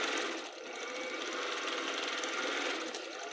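A Grace SureStitch stitch-regulated sewing machine stitches steadily, its rapid mechanical whir easing and picking up in speed as the fabric moves, close and alone.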